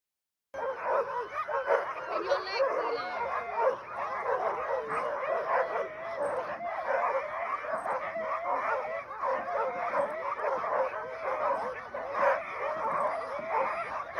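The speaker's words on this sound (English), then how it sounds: "here's another little video of our experience with the Huskies and sleds" Sled huskies bark, yip and whimper in a continuous excited chorus, several dogs close by and loud throughout with no pause.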